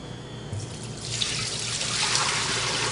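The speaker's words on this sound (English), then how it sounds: "we're going to pour roughly a gallon at each side" Sanitizer pours into a Stoelting F231 frozen yogurt machine, a steady rushing splash of liquid that swells louder and brighter partway through and continues without pause.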